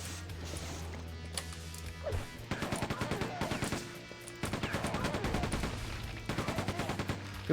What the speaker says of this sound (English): It's called a chain gun.